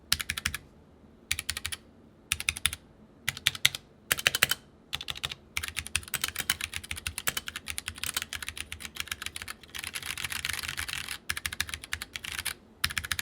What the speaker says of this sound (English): This keyboard also uses Gateron mechanical switches, which feel really good because of the solidness on this keyboard, and they do sound quite nice.